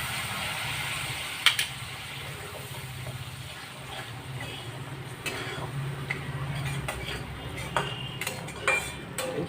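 Mustard paste being stirred in a pan for a fish curry, a soft, steady scraping and wet swishing that runs throughout with occasional light clicks of the spoon, close by and fairly quiet.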